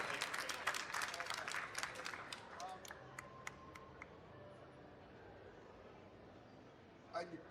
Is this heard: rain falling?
no